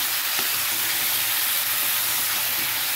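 Vegetables stir-fry in a hot pan with a steady, loud sizzle and hiss. A spoon scrapes and stirs throughout, close up, with no talking.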